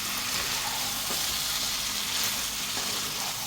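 Mutton sizzles in hot oil as it is sautéed with garlic, a constant loud crackling hiss with no pauses or speech.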